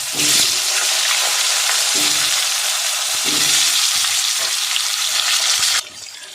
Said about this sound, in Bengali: এবার আমি এই তেলে আলুটা ভেজে নেব